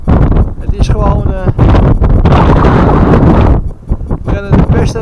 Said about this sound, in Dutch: Ik sta hier weer midden in de polder. En het is zo'n wind.